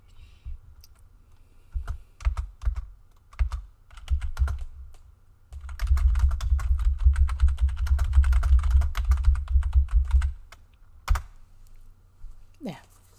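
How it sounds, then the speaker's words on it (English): Keys on a computer keyboard clatter close by in uneven bursts of rapid clicks with short pauses between them, with a brief spell of quiet speech near the end. "I'm just writing in the chat."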